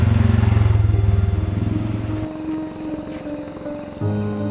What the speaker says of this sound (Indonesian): Kalau motor kah?